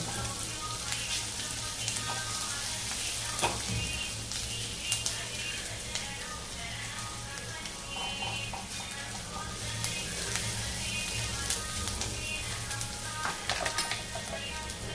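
Upma ingredients frying in a pan until golden brown, a continuous crackling sizzle with occasional stirring scrapes, steady and close, with no one talking.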